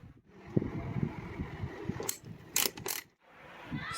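Bolts being removed from the fog light housing of a 2020 Ram 1500, heard as close mechanical tool clicks and ratcheting with a few sharp metallic bursts, no talk.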